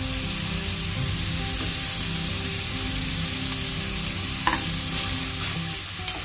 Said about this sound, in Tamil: ஸோ இப்போ இது ரெண்டும் வந்து நல்லா வதங்குற அளவு வதக்கி எடுத்துக்கலாம். ஒரு 2-3 நிமிஷம் நல்லா வதக்கிக்கோங்க.